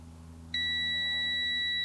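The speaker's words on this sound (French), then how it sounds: "ça c'est un test de continuité" A single steady electronic beep from a multimeter continuity test starts suddenly and holds continuously over a low background hum.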